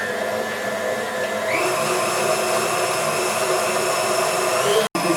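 Electric mixer whirring steadily through galette des rois batter, a loud continuous motor drone that rises slightly in pitch partway through and cuts out abruptly near the end.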